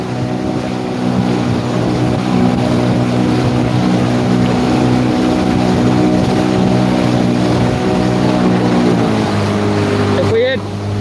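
A houseboat motor drones steadily at full throttle on the open ocean, loud and close under wind noise, with someone talking over it; near the end the engine pitch drops.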